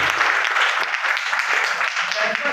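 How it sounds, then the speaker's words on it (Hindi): An audience at a seminar in Jawahar Nagar, Loni, breaks into sustained applause, a dense wash of clapping hands that fills the room throughout. "ताली बजाओ"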